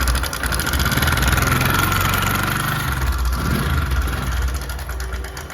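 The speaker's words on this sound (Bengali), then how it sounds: "এই যে সাউন্ডটা হচ্ছে, এটা টাইমিং চেনেরই আওয়াজ হচ্ছে" Close idling of a Bajaj Discover 100 motorcycle engine with a worn, noisy timing chain, giving a continuous rattling mechanical drone that stays fairly steady for the whole stretch.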